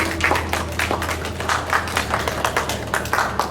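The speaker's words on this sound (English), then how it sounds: "Please give them a big round of applause." A crowd applauding, dense irregular clapping that continues steadily at moderate loudness with no talking.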